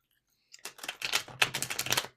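Tarot cards being shuffled by hand, a quick run of crisp, papery riffling bursts close up, with a brief pause before the shuffle builds and continues.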